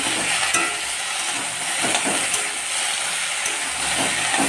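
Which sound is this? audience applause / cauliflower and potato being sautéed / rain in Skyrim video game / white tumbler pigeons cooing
cauliflower and potato being sautéed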